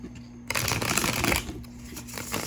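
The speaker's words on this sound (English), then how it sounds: "I need to shuffle the Crystal Ally cards really quick" A deck of Crystal Ally oracle cards is shuffled, a dense papery riffle that starts suddenly and runs about a second before it eases into softer, quieter card handling.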